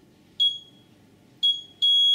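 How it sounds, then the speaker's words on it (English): A GSM alarm panel gives three sharp, high electronic beeps, the last one held longer, close and clear over a faint low hum. "until you get that long beep"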